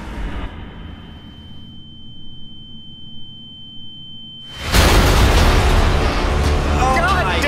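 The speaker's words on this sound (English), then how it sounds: "Give it one more really good hit." A combat robot takes a hard hit from a forklift, a sudden loud, broad crash after a quiet stretch of low hum and faint tone, followed by sustained roaring noise and a voice cheering underneath.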